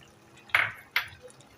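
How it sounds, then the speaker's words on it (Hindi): Half a cup of oil poured into a pot of simmering beef boti masala, two short splashy hits about half a second apart, close and moderately loud, without speech. "इसमें जो है आधा प्याली हम डाल देंगे ऑयल"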